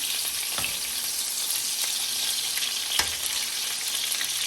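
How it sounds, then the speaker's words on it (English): Chicken meat sizzles in a frying pan as pieces are flipped, a continuous close crackle with a few sharp clacks of the utensil against the pan. "I have started flipping my meat over"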